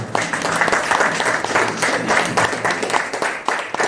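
Audience applause at a Marathi gathering as the crowd stands to honour a guest, a dense, steady wash of many hands clapping close by for several seconds without a break.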